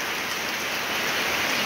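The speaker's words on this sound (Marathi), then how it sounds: "छानपैकी पाऊस पडू राहिलेला आहे बघा" Steady heavy rain pouring down outdoors on a farm threshing yard after a drizzly morning, a dense continuous hiss that holds even and unbroken throughout with no voices.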